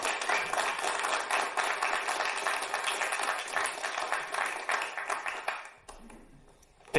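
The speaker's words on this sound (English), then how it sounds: "Please welcome, round of applause for Vyakoslav Krajacic." Audience applause for a speaker being introduced at a live-coding event, dense steady clapping filling most of the clip before cutting off near the end into quiet room tone.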